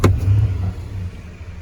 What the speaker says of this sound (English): That's a really nice exhaust note.